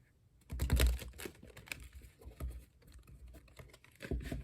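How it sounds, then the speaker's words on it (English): A deck of tarot cards riffled and shuffled close by, a dense burst of rapid papery flicks followed by softer handling and another brief shuffle at the end. "Some shuffling, of course."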